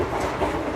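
A passenger train rolling along rails in southern India, a steady close rumble and rattle of carriages on track, continuous with no voices.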